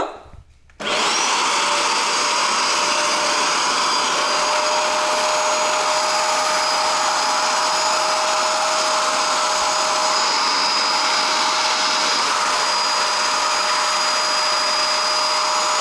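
A vacuum cleaner fitted with a brush attachment, about to be used on a very dark sofa, switches on after a short quiet moment and then runs with a loud, steady whine that holds for the rest of the clip with no talking.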